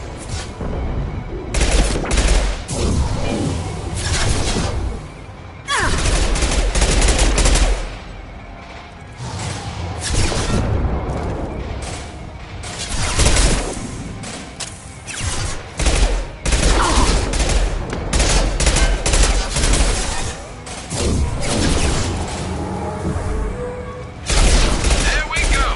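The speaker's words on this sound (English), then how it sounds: "Firing concussive shot." Rapid gunfire and heavy concussive blasts from a Mass Effect 2 Legendary Edition combat sequence, dense and loud throughout with bursts and booms overlapping, and a voice speaking intermittently beneath the battle noise.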